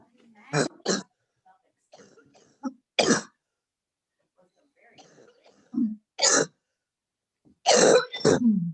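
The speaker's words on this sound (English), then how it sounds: "Oh, somebody's got a cough." Several sharp coughs and throat-clearing bursts in a quiet room, spaced irregularly with short pauses between them, fairly close.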